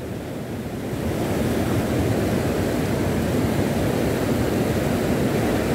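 Floodwater rushes past after a night of heavy flooding, a loud continuous broadband roar that swells after the first second and holds steady, with no voices.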